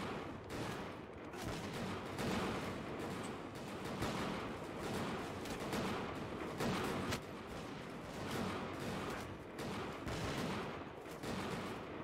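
Soldiers fire muskets in a Bannerlord battle on the Normandy shore. Rolling, overlapping volleys of gunfire crackle continuously, fairly distant and low in level, with sharper single shots standing out now and then.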